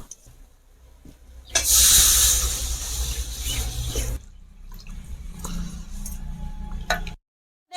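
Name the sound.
water poured into frying mustard masala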